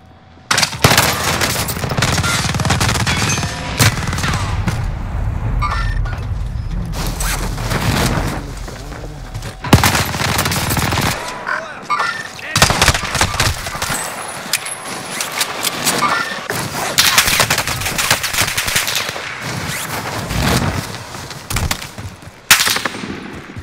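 Gunfire in the video game Call of Duty Modern Warfare: loud, sustained automatic bursts and single shots crackle almost continuously, with brief quieter gaps.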